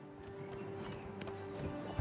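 Horse galloping in the video game Oblivion Remastered, heard off-road as a steady, fairly soft run of hoofbeats over a continuous background bed, with no voices.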